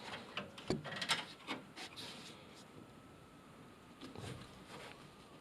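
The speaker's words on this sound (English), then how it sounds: "Now I'll take my line wrench and attempt to loosen this." A line wrench works at a brake line nut on a car with failing brakes: quiet rubbing and scraping metal clicks, a cluster of small knocks early on and another near the end, all faint and close.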